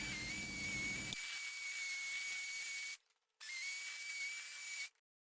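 A saw blade cuts an aluminum ceiling tile with an intense, piercing high whine and hiss. Two long passes are separated by a short pause, and the sound ends abruptly.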